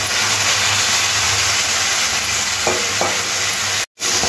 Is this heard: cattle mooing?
no